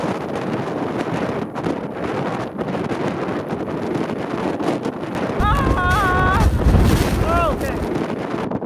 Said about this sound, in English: we had a big windstorm, like 100-kilometer-hour winds in the Alpine